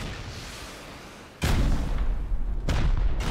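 Rockets launching and exploding in the video game Rust during a base raid, a faint hiss followed by two heavy booming blasts with rumbling tails, loud and close.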